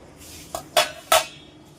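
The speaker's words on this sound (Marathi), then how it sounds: "तर याच्यावरती मी झाकण ठेवते" A metal lid is set onto a pot of chicken gravy, giving a light tap and then two ringing clanks close by, with no talk.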